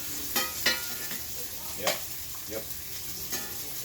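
Sausage sizzling and frying in a pan in a home kitchen while being stirred, with a steady crackling hiss, a few sharp utensil scrapes and clinks, and a brief spoken word.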